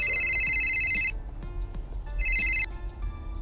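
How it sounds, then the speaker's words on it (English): A telephone rings in two bursts of bright electronic trilling, each about a second long with a pause between, sounding near and clear with no talking over it. "It takes a long for you answer your phone."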